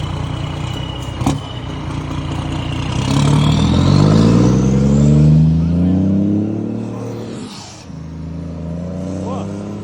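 Three Scania trucks rev their engines, a deep roar that swells, climbs in pitch and then eases off, loud and close, with a sharp bang early on.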